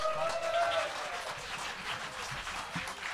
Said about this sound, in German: der letzte Applaus vor dem Konzert gilt natürlich der großartigen